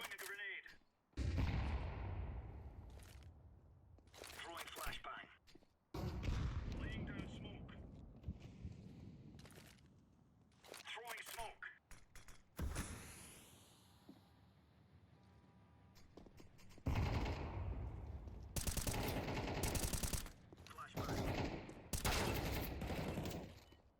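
Gunfire in a multiplayer video game shooter comes as loud bursts and volleys of shots mixed with in-game footsteps, while players talk over it throughout.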